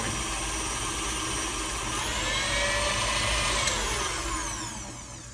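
An electric mixer creams oatmeal butterscotch cookie dough in a bowl, a loud continuous motor whir with a pitch that shifts slightly as it works the dough; no talking.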